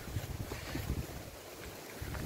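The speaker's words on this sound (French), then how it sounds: "Simon, il y a beaucoup de vent, on peut voir" Strong wind buffets the microphone in loud, gusting roars outdoors, with no talk over it.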